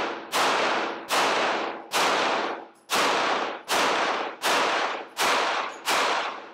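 A Springfield Echelon pistol fired at the range, eight sharp, loud shots in a steady rhythm about 0.8 seconds apart, each with a short decaying echo.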